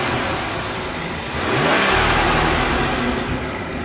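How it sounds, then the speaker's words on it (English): A BMW B58 3-liter twin-scroll single-turbo inline-six, rated 320 horsepower, revs up from a steady drone to a louder, rising roar that holds near and strong before easing off. "This is a twin scroll single turbo 3-liter inline 6."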